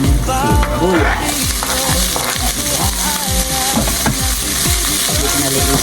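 Onion fries in a pan for a chicken and pork adobo, giving a loud, dense sizzle with rhythmic scraping and clanking from the stirring, plus faint background voices or music.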